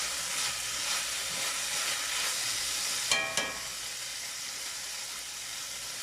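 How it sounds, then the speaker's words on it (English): Steady close sizzle and steam hiss from beans blackening in a hot pan on a stove in a van kitchen, continuous throughout with a couple of brief clinks or stirring bumps midway. "See that steam going?"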